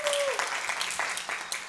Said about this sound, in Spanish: Un aplauso para nuestro equipo.